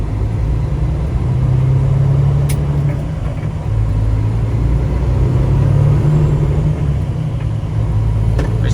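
A Cummins X15 engine in a semi truck drones loudly and steadily while the truck drives, a deep continuous rumble with faint cab noises on top.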